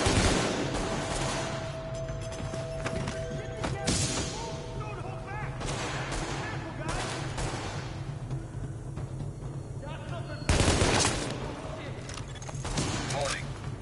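Gunfire from The Division crackles throughout, loud bursts and repeated shots under someone talking almost nonstop over busy game sound.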